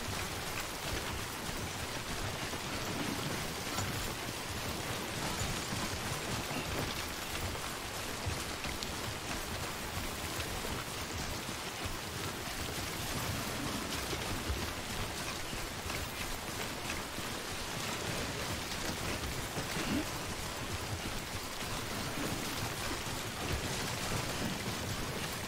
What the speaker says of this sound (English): It's starting to look nice out, too, and it's still raining.